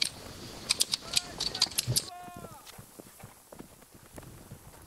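Horse hooves in the video game Holdfast, quick clip-clop footfalls running close by amid metallic clinks and rustling, then softer scattered thuds as the hoofbeats move off; a voice talks over the scene.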